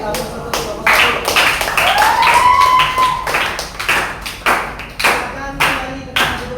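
A classroom of students claps for a group after its presentation, a close burst of irregular hand claps that continues for several seconds, with a voice and a rising whistle-like tone mixed in.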